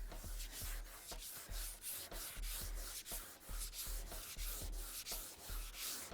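A sanding block rubs back and forth over a surface to level a low spot, making steady repeated scraping strokes about twice a second, close and alone.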